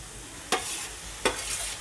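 Chopped coriander is stirred into ginger and garlic frying in a pan, giving a steady close sizzle broken by two brief scraping stirs of a spoon, with no voices.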